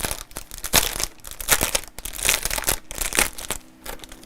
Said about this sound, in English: Sorry if I'm rustling again.